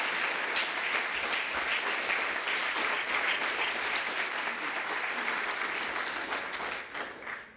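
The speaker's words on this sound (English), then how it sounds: "I think we should give them a real good round of applause" Sustained audience applause at a conference session, a dense, even wash of clapping from a crowd that holds for several seconds before tapering off at the end.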